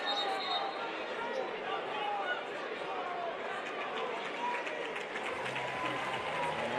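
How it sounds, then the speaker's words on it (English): Broad crowd roar fills a gym at a boys' high school basketball regional playoff game, a steady wash of applause and chatter with voices and faint ball bounces mixed in. "You can hear, folks, a loud crowd here tonight."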